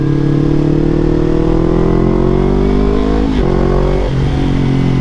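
A Yamaha MT25 250cc motorcycle on a test ride gives off a steady, loud engine drone. The pitch climbs gradually as it accelerates, with a brief shift dip near the end.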